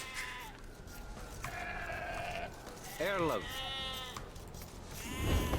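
Sheep bleat several times in Age of Empires II: Definitive Edition during a William Wallace campaign, the wavering cries rising clearly over background game music and a voice talking nearby.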